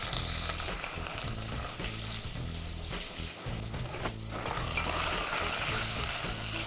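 Chopped shallots and mustard seeds fry in oil in a pan, a dense, steady hiss-like sizzle with a low rumble beneath, fairly constant throughout, with no talk.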